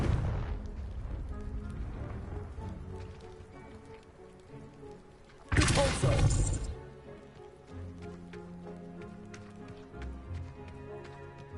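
A Confringo blasting spell goes off in the Hogwarts Legacy video game, a sudden loud burst lasting about a second partway through, set against crackling ambient game sound and a low musical bed.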